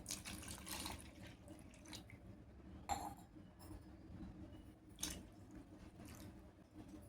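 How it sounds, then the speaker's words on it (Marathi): Water pours steadily into a bowl of curd for buttermilk with a continuous splashing rush, close by, plus a couple of brief clinks. "2 ग्लास पाणी घालूया।"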